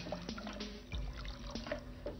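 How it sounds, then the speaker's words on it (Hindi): Water poured into a pot of broccoli almond soup with flour, onion, bay leaf and milk, a steady low splashing trickle with faint drips, close and moderately quiet, no talking. "इसमें थोड़ा पानी डालें"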